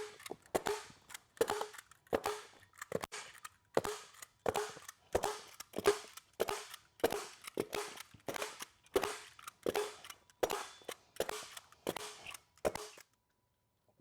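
Staple gun driving staples into a plywood subfloor, fired about every second in a steady series of sharp, close clacks with brief decays, roughly fifteen shots with no talking.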